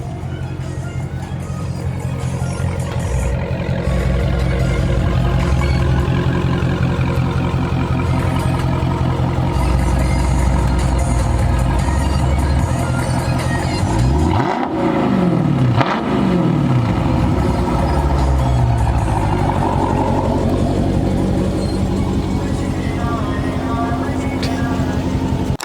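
A Dodge Charger Scat Pack 392 idles and runs loudly with music blaring, the engine revving with a rising and falling sweep midway, while a voice talks over it.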